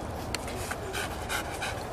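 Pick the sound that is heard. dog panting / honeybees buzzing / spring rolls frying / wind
dog panting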